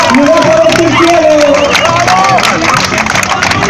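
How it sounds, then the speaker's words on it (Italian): A crowd applauds and cheers a cyclist reaching the finish of the Garibaldina 2015 Medio Fondo road race, steady loud clapping and shouts under an excited announcer's commentary. "attenzione che l'applauso, di Montana, signori, arriva con il braccio"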